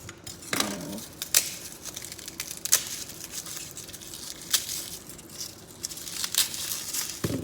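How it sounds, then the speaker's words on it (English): A knife cuts an onion on a board in a kitchen during Moroccan ksitsot preparation, giving a series of sharp chopping taps spaced about a second apart over soft background handling noise, with no talking. "I'm going to cut my onion"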